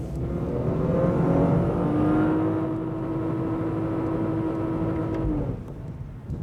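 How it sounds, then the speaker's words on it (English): A 2001 Lexus IS 300 engine revs hard and holds near the rev limiter, a loud sustained rising and steady drone that drops off abruptly near the end. "you'll be bouncing off the red line and the rev limiter all across the country"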